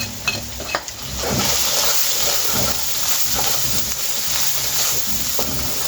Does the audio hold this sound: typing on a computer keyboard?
no